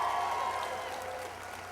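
A large rally crowd at a political speech in Manchester, New Hampshire applauds in a steady, distant wash of clapping and cheering that slowly fades.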